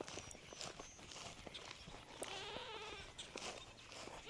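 Goats on a farm bleat in bursts over a busy outdoor background, with hoof-like footsteps and shuffling moving close by throughout.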